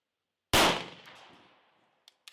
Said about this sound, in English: We're just going to be shooting regular 115 grain, full metal jacket.